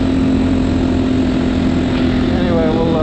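A GPX Moto FSE300R dual sport motorcycle rides along a road, its engine droning steadily and loudly with heavy wind rush throughout.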